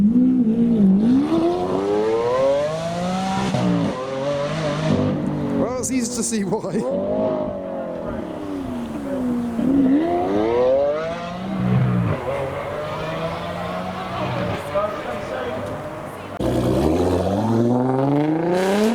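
A turquoise Lamborghini Aventador supercar roars past, engine revving and sweeping up and down in pitch through repeated acceleration runs, with someone talking over it.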